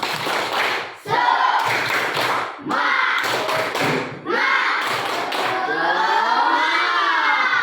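A classroom group performs the tepuk semangat rhythmic clapping chant, bursts of patterned claps broken by short pauses, joined by shouted voices and ending in a long drawn-out cheer.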